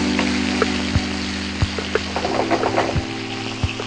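Fish frying in hot oil in a pan for a Tamil-style Mughlai fish biryani, a steady close sizzle with soft clinks and bubbling pops scattered throughout, no talking.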